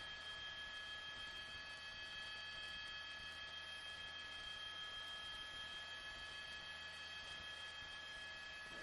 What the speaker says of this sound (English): there's a helicopter overhead. It's LAPD's helicopter